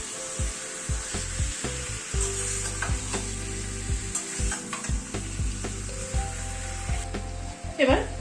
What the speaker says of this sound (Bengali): চিকেনটা দিয়ে একটু মিশিয়ে নিচ্ছি